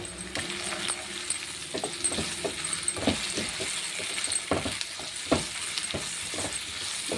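Turmeric and ginger garlic paste sizzle in a pan for an aloo tomato curry, a soft steady hiss broken by repeated scraping stirs and light clinks of a spoon, fairly quiet and without voices.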